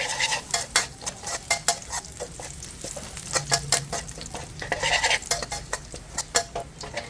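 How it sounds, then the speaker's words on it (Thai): Thai garlic sizzling in hot oil while a utensil stirs and scrapes the pan in repeated bursts, close and steady, with no talk. "ขั้นตอนนี้เราจะเจียวกระเทียมค่ะ เจียวกระเทียมให้ มีสีเหลืองๆแล้วก็ส่งกลิ่นหอมขึ้นมา"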